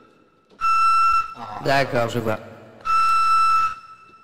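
A Beijing pigeon whistle, held at an angle and blown by mouth, gives two sustained steady harmonic tones of under a second each, with a short stretch of speech between them.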